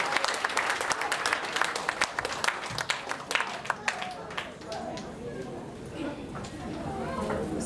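An audience claps steadily for a guest of honour at the Senandung Muhibbah 2010 event, dense applause that slowly thins and fades after several seconds, with some murmuring in the crowd.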